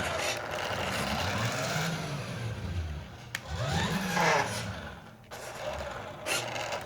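A Tyco Bandit RC truck's electric motor runs indoors in high gear with a steady whirring whine whose pitch swells up and down as it revs.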